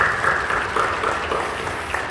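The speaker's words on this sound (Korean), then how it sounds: "격려하며 박수해 주시죠." A church congregation applauding during a New Year revival service at a Korean Full Gospel church, a steady broad wash of clapping that holds at an even level across the whole stretch.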